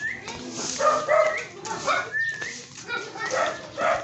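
A husky yips and whines in short repeated bursts, with people talking alongside it.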